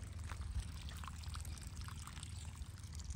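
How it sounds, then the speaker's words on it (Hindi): Irrigation water runs steadily into a farm field, a continuous low gurgling pour with a faint trickling hiss, close and unbroken throughout. "अभी तो पानी चल रहा है इसमें"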